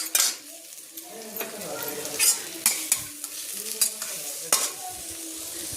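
Ingredients for dahi vange, an eggplant dish, sautéed in oil and stirred with a spoon: a soft ongoing sizzle broken by sharp scraping and clinking strokes against the pan, close up, without speech.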